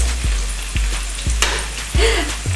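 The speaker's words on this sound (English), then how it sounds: "I kind of suck at cracking eggs. I'm gonna try this." An egg is cracked into a hot, sizzling pan: several sharp taps against the rim ring out over a steady, close frying sizzle, with no talking.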